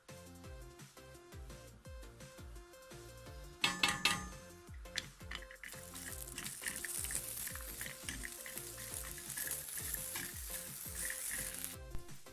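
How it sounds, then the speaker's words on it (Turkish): Cashews roasting in a pan for carrot halwa give a loud, continuous sizzle and crackle, broken by metallic clinks and scrapes of stirring close by. "Son olarak kajularımızı biraz kavuruyoruz."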